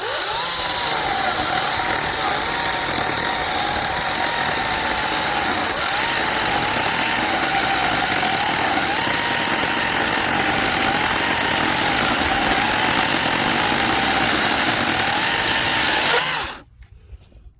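A chainsaw runs loud and close, cutting through acacia wood in a steady high-revving roar for about sixteen seconds before abruptly shutting off into near silence.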